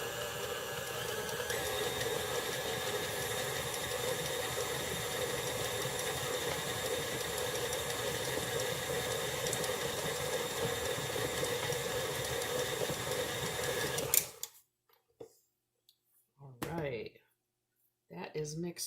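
An electric mixer whirs steadily through peanut butter cookie dough, a constant motor drone for about fourteen seconds that stops abruptly, followed by a few brief scraping sounds and short bits of speech.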